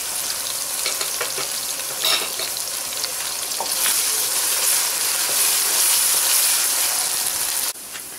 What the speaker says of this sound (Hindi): इसको भी मैं प्याज के साथ ही मिक्स कर रही हूँ ताकि ये अच्छे से भुन जाए